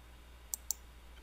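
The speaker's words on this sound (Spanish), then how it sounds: "damos clic derecho" Two quick, faint mouse clicks about a fifth of a second apart, a right-click on a computer mouse in Excel 2013 against a quiet background.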